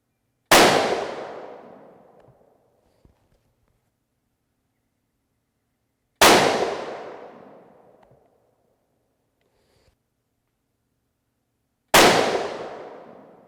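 A Remington 700 BDL Varmint Special in .223 Remington fires three separate shots, each a loud, sharp crack with a fading tail, spaced about six seconds apart with quiet between them.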